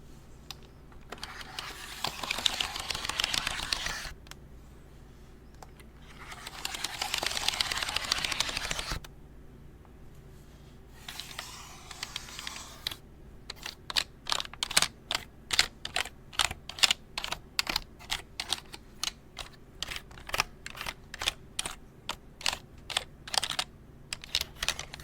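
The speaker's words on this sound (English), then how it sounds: "Even when I clean these keys, you can hear a distinct difference between the two keyboards." Computer keyboard keys are cleaned with two stretches of brushing or wiping, then pressed in a fast run of crisp, close clicks and clacks, with no talking.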